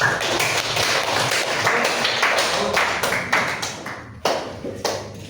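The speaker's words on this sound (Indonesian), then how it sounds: "Tepuk tangan dulu dong buat kelompok." A classroom group claps for fellow students after their presentation in a teacher coaching practice session, dense close clapping that thins out into a few scattered claps toward the end.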